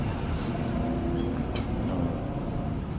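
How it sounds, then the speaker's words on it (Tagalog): A continuous low traffic rumble from vehicles on a provincial roadside in Dawis Norte, Carmen, Cebu, steady and moderately loud, with a faint high whine and occasional distant clatter over it. "medyo maingay yung mga sasakyan"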